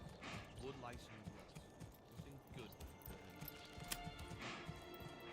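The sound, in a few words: horse hooves clip-clopping in video game Manor Lords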